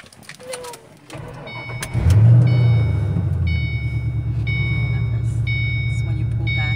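A car engine cranks and catches about two seconds in, then settles into a loud, steady idle close by, with a faint high tonal whine above it.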